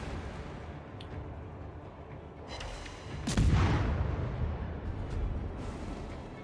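Ship guns firing in the naval video game World of Warships, heard as one heavy boom rising midway over a steady rumbling ambience, with fainter distant thuds after it.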